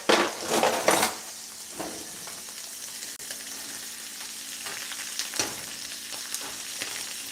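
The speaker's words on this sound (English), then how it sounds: "We're definitely going to get her sear on with the steaks this time." Steaks sizzle and spit loudly in a hot pan, with a few clinks of utensils and scraping, the frying hiss continuing steadily throughout.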